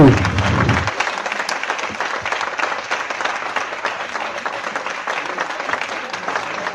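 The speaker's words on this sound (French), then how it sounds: "je vous demande un tonnerre d'applaudissements" A political rally crowd breaks into sustained applause, many hands clapping in a dense, fairly even roar after a brief opening burst of amplified sound.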